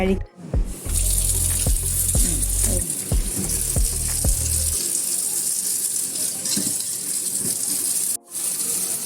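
Tap water runs steadily into a sink while freshly picked okra is rinsed under it, with a few low thumps and handling knocks early on as the stream keeps flowing.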